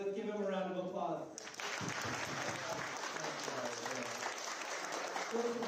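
A school audience applauds for the principal at a high school STEAM challenge event, the dense clapping starting after a brief spoken introduction and continuing loudly and steadily to the end.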